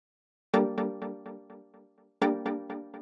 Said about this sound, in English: So the next sound we have here is a stab